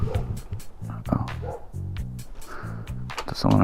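A dog yips and barks in a rhythmic series of short woofs, fairly close, mixed in with a person talking over it.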